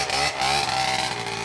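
A motorcycle engine revs hard and close up in a brief, loud burst, with a steady harmonic drone that dips slightly and climbs again.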